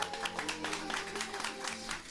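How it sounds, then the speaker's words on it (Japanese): Audience applause at a small Japanese live house music venue as a performer is introduced, a steady wash of clapping with scattered individual claps, fairly distant and moderately quiet throughout. "拍手"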